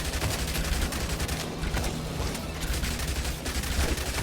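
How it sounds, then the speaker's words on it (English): An SMG fires in a hectic top-down zombie survival shooter game, a dense, continuous rattle of rapid shots layered with game effects, loud and unbroken, with no talking. "we're gonna go SMG. We need all the pew we can get."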